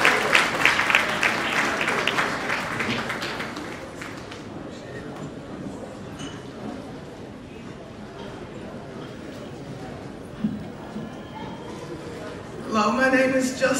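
Audience clapping for a presenter at an award event, loud at first then fading into a murmuring crowd with scattered voices and a brief burst of noise near the end.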